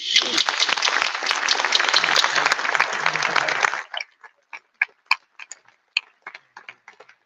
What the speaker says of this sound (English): One more time, a big round of applause there for David Johnson.